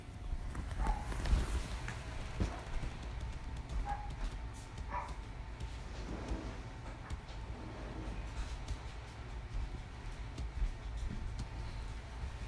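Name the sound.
dog waiting to be let in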